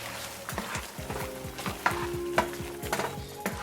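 Homemade sauce thickened with flour is stirred in a pan: a steady soft sizzle with repeated scraping strokes of a utensil against the pan, close and rhythmic, several light knocks, no voices.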